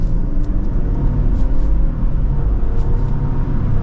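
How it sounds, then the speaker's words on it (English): A 2023 Lexus LX600 Luxury pulls away under acceleration and shifts into second gear, heard from inside the cabin as a steady, loud low engine rumble with road noise and no speech. "And we'll do another acceleration. We'll get into a second gear."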